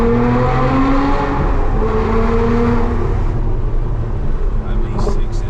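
A Lotus Emira with its 3.5 V6 engine blasts through a tunnel, a loud sustained roar with a rising, layered engine note echoing off the walls, tapering near the end.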